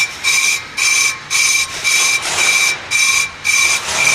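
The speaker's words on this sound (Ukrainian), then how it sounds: "І звук такий характерний пішов, де різець бере, а де не бере." Rhythmic, pulsing metallic scraping from a lathe cutter resurfacing a brake disc, cutting unevenly, surging about twice per second with a shrill ringing edge.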